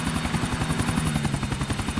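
A helicopter in GTA 4 drones steadily and loudly, its rotor throbbing in a fast even pulse with a high whine on top, close and continuous through the whole stretch with no talk.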